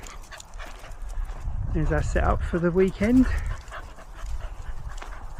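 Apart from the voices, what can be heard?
dogs whimpering and panting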